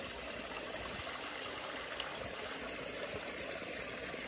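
Water spills steadily down a small garden koi and goldfish pond waterfall, a constant close trickling rush with no voices.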